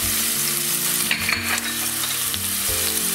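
Chopped onion salted to sweat, with garlic added, frying in a pan for a Spanish white bean stew; a loud, continuous close sizzle with stirring scrapes partway through.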